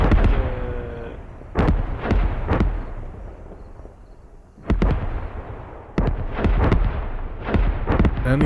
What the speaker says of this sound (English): So this artillery strike is completely ineffective